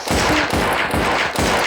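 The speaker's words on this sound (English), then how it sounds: "And they would go to shoot the zombies." Dense, continuous gunfire from zombie shooting in the Melon Sandbox video game, rapid overlapping shots forming a steady loud barrage with no pauses.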